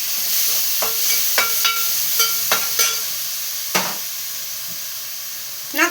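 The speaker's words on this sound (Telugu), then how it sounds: "పచ్చిమిర్చి వేసుకుందాం." Green chillies dropped into a hot frying pan alongside onions and tomato, giving a steady sizzle punctuated by several sharp crackles and pops, then a louder burst of spattering at the end.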